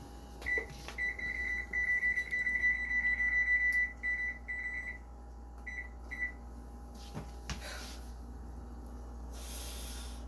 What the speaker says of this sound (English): the timer's just gone off at 25 minutes